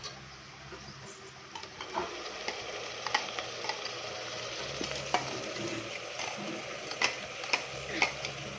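Ground masala frying and being stirred in a pan for avarekal rice bath, a steady close sizzle with scattered light ticks and scrapes from the spoon, no voices.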